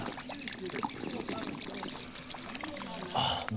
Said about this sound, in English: fresh mountain spring water